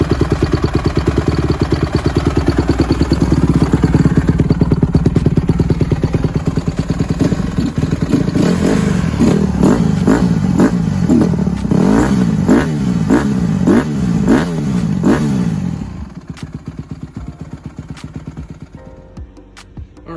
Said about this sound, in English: You give her throttle, and then the throttle the idle goes super duper high